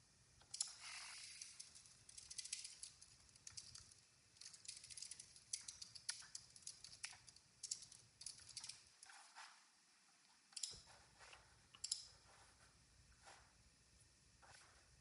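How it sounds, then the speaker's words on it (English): Typing on a computer keyboard, faint and close, with irregular bursts of light key clicks and pauses, the clatter continuing steadily over a quiet background. "I'm just going to type up a game plan."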